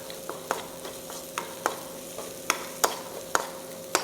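Masala sautéed in a pan with a little salt, a steady low sizzle punctuated by sharp, regular spatula scrapes and taps roughly every half second, close and clear.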